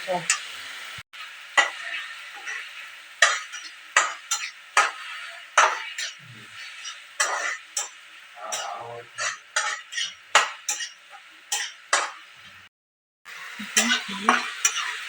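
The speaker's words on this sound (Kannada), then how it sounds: "ಟೊಮೊಟೊ ಫ್ರೈ ಆಗ್ತಾ ಇದೆ" Tomato frying in a pan with salt, stirred in repeated scraping strokes over a steady sizzle, with brief metal clinks and pauses between bursts.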